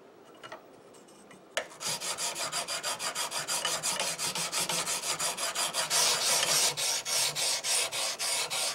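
A kukri blade being honed on a medium sharpening stone: after a quiet start, rhythmic back-and-forth scraping strokes begin and repeat steadily, close and clear, growing slightly louder as they go.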